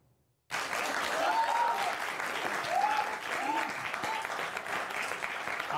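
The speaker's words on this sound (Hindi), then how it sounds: "तालियां।" Audience applause bursts in after a brief silence and carries on steadily at an event with a comic poet, with a few faint tonal sounds drifting over the clapping.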